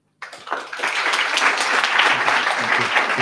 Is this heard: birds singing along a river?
no